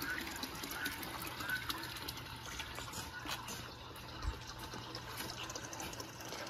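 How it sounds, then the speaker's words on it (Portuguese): Water pours steadily onto garden beds on a rural smallholding, a continuous splashing, rushing wash held at an even level throughout, close by with no talk. "Deixa eu jogar água aqui,"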